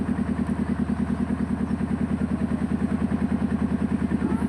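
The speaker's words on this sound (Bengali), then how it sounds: "নৌকা চলে যাচ্ছে, বুঝতেই পারছেন নৌকার আওয়াজ আসছে যেহেতু।" Motor boat engine running on the Ganges, close and loud, with a steady rapid chugging putter that holds an even rhythm throughout, no talk over it.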